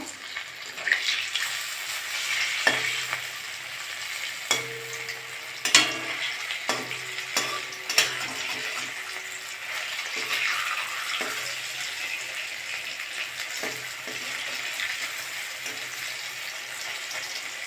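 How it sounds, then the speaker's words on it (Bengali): Taro flower fritters fry in hot oil with a steady, hissing sizzle throughout, broken by several sharp clicks and scrapes as a utensil flips them in the pan. "এক সাইডে ভাজা হয়ে গেছে, আমি এবার উল্টে দেবো।"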